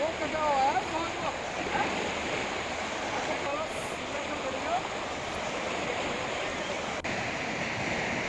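Monsoon floodwater rushes through a swollen river in Uttarakhand, a loud, continuous broadband roar of churning water that stays close and steady throughout, with faint voices now and then beneath it.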